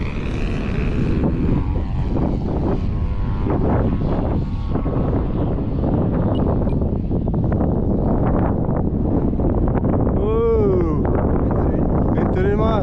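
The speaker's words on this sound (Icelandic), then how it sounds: "Vindurinn maður." Strong wind buffeting a microphone outdoors at an airfield, loud and continuous rumbling, with people talking under it and a propeller aircraft whining past near the end.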